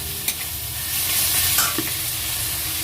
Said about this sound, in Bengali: পেঁয়াজটা ভাজছি আমি